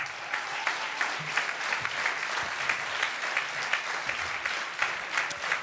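An audience at the closing ceremony of a humor festival applauds the artist who made the trophy, producing steady, dense clapping from many hands that fills the room and holds evenly throughout.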